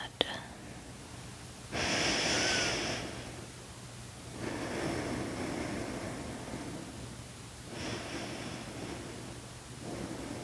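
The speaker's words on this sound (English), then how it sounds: "Just breathing here." Slow, deep breathing during a bedtime yoga stretch, recorded close and soft: airy inhales and exhales come in long swells a few seconds apart over a faint steady background hum, with no talking.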